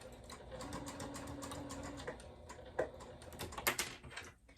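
A domestic sewing machine back stitching the seam of a small fabric wristlet pouch, a steady mechanical whirr with a few sharper clicks and bumps near the end, close and moderately loud with no talking.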